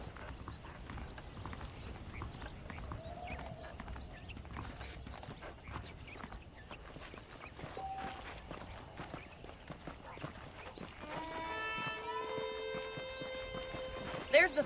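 Saddled horses' hooves clip-clop steadily at a walking pace in the western video game Red Dead Redemption, a close continuous patter with talk and some tonal game sounds rising near the end.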